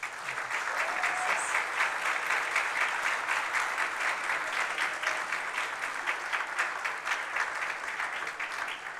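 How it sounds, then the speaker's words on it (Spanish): Sustained applause from a large audience at a forum or lecture hall, dense steady clapping that fills the whole stretch without pause and without talk over it. "Así que a quienes les pido un fuerte aplauso,"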